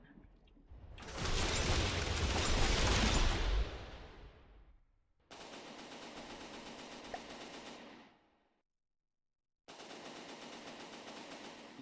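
A missile and gun barrage in the naval combat game From the Depths roars as sustained rapid machine-gun fire in long continuous bursts, broken by abrupt silences.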